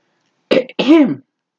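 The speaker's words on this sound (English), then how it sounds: "Allow me to clear my throat." One person clears their throat loudly up close: a short rasp, a brief break, then a longer gravelly rumble trailing off.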